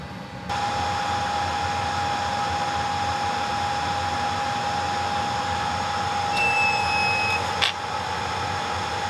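A hot air rework tool reflows a chip on a Saab 9-3 engine control unit circuit board, giving a steady blowing hiss with a constant whine, close and unbroken, with a brief higher beep near the end.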